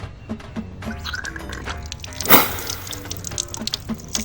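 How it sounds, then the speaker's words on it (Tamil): An iPhone is washed in water, giving a run of small splashes, drips and gurgling with one louder splash in the middle, close and fairly quiet. "இப்போ வாங்க நம்ம தண்ணியில் கழுகிடுவோம்."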